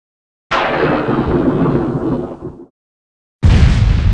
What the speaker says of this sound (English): We should be expecting lightning storms,